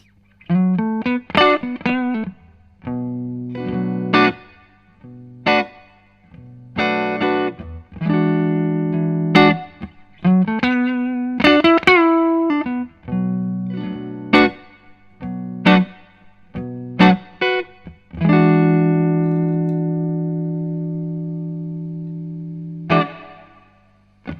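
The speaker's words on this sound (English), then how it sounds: "Now the reverb is a digital reverb, but it sounds pretty good." Electric guitar through a budget valve amp with digital reverb plays plucked notes and ringing chords, each one trailing off in a spacious reverb tail; no talking.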